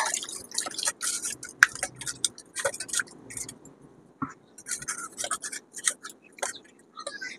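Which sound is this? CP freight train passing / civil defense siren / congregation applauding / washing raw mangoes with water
washing raw mangoes with water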